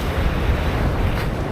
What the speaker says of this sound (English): Today we're supposed to be looking at a steady 20 mile an hour wind with about 40 mile an hour gusts